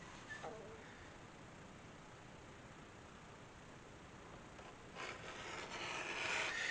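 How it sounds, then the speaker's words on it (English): Thick leather for a guitar strap being beveled along its edge with a sharp, polished edge beveler, a faint, soft scraping rasp that grows a little louder and denser toward the end. "we're just going to bevel this piece."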